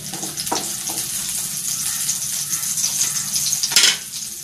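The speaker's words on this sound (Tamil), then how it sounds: "இந்த பச்சை வாசனை போய் பச்சை மிளகாய் நல்லா வதங்கி வரணும்" Onions and green chillies sauté in a hot pan for egg fried rice, giving a steady close sizzle with occasional scrapes and stirring clinks, including a sharper utensil scrape near the end.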